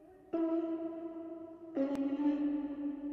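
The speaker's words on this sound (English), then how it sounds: "then in here we throw the reverb on" A lead vocal in a music production mix is drenched in a big reverb effect. Two sustained, tonal sung notes each ring out into long washy tails, with a brief sharp click partway through.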